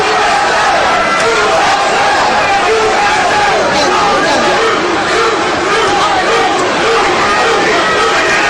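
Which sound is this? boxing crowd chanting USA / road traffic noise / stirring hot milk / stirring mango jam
boxing crowd chanting USA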